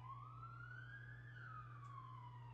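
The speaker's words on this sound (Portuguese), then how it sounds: "Deixa eu só esperar a ambulância passar." An ambulance siren wails in the street, a loud continuous rising and falling tone over a steady low hum, with no talking.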